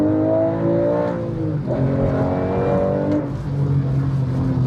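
A 2004 Porsche GT3 revving hard while being driven, its engine note climbing and dropping through several pulls, loud and close from inside the car, with no talk over it.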